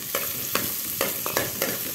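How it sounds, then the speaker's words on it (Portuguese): Onion browning in a pan for a fish in sauce dish, a continuous sizzle punctuated by about five sharp spatula scrapes at a fairly even rhythm, close and clear with no voices. "Até essa cebola dourar aqui."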